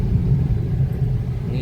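A car runs steadily downhill on a hill road near Mainpat's Tiger Point, its low engine and road rumble continuous and close throughout, with no talking.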